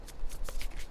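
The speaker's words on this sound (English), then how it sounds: "I saw that one and then I started shuffling." Tarot cards being shuffled by hand, several quick papery riffles and slaps in a close, brief burst, no speech.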